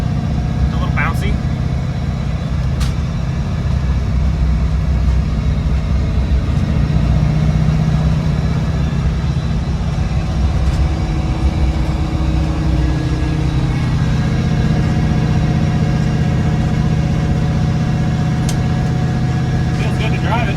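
A 1967 Chevy Nova with a swapped 5.3 LSA V8 drives along, its engine a steady low rumble throughout with a slight stumble at tip-in, loud and close, with people talking over it.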